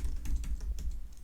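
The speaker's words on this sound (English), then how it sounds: "Lastly, I'm going to simulate typing something." Keys being typed on an Apple keyboard, a quick run of light clicks and taps picked up by a Maono A425 Plus microphone, close and fairly quiet, with no voices.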